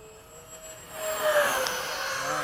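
An FMS 70mm A-10 RC model jet sweeps through a low pass at a sunset demo flight, its ducted-fan whine swelling into a rising, breathy rush that grows louder and stays loud at the end.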